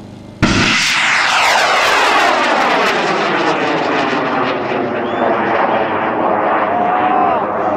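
Model rocket motors ignite at launch with a sudden, very loud roar that stays near and sustained, a rushing blast that eases only slightly as it continues.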